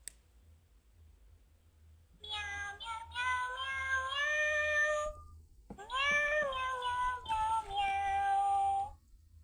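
A Pets Alive Smitten Kittens toy cat gives two long electronic meows, each a warbling, kitten-like cry lasting a few seconds, close and clear against an otherwise quiet background with a low hum.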